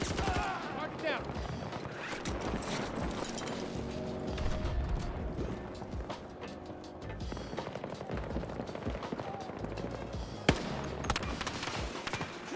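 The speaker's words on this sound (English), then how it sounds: "See, this guy's just shooting at me." Enemy gunfire in a first-person shooter game, rapid bursts of shots crackling throughout a busy battle mix, with someone talking over it and one sharper close bang near the end.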